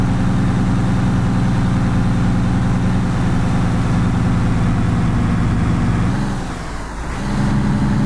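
A new truck's heavy diesel engine running steadily at close range, a loud low drone with a brief dip in pitch and level near the end as if shifting gears.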